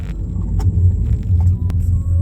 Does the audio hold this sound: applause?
no